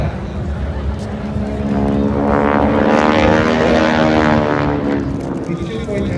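Propeller airplane flying overhead with wing walkers strapped on top of the wing, a droning engine swelling louder toward the middle as it passes, then easing off, heard at a beach air show.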